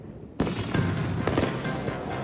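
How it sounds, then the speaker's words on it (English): Fireworks set off during a live improv comedy stage show, a sudden loud burst of crackling and popping that starts abruptly and continues as a dense, sustained rattle of small bangs. "We got some fireworks we can display."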